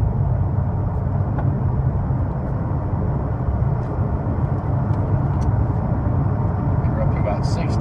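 A 2014 Ford Taurus Police Interceptor cruising at highway speed, heard from inside as a steady low road and engine drone with tire rumble, continuous and fairly loud throughout.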